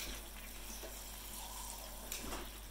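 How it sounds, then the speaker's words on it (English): Water poured from a tap or jug into a pan of thick cherry balsamic sauce for pork chops, a steady close splashing pour running the full length. "I'm going to add just a little bit of water."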